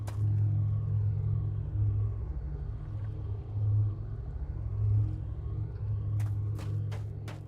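Mechanical whirring from a machine in the puzzle adventure game Obduction. It is a low, steady droning hum that swells and fades slightly, with a few quick clicks near the end.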